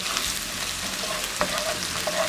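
Finely chopped onion frying in a pan as a base for rice, a steady close sizzle with a couple of brief stirring scrapes, no one speaking.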